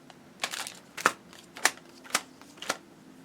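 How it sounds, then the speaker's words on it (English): A stack of GOT7 photocards is sorted and shuffled, giving about five crisp, papery rustling bursts spaced roughly half a second apart, close and fairly quiet with no talking. "I'm just separating out all the cards."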